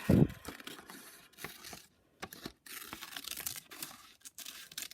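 Yellow paper being cut out into a circle, close crinkling and rustling with short snips and tearing sounds in irregular bursts separated by brief silences, opening with one louder handling thump.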